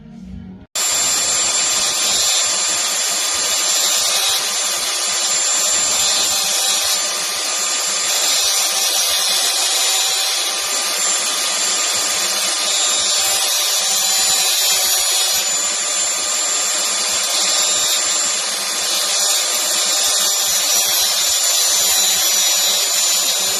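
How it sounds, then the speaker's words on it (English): Power grinder working rusty metal on a Fiat Coupe 20V Turbo body under restoration, a loud continuous high-pitched whine and grind held steady for over twenty seconds without a break. "So I grinded this down."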